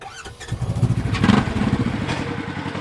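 Polaris RZR off-road vehicle on sand dunes, its engine revving loudly up close with a throbbing, uneven idle and rising throttle bursts.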